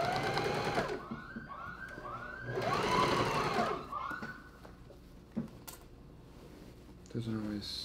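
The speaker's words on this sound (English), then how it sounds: "I'm just gonna sew it down" A sewing machine stitches scrap fabric down in a few short, stuttering bursts with a louder run in the middle, then stops, leaving faint handling clicks and a brief final whir.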